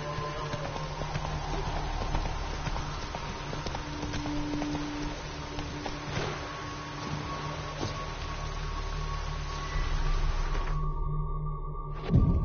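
In The Witcher III, the horse Roach trots with a continuous clip-clop of hooves over a low steady game ambience, the rhythm running evenly until it drops away near the end.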